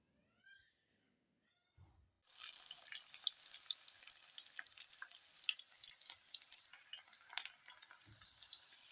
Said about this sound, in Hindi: इसमें हम प्याज ब्राउन कर लेंगे।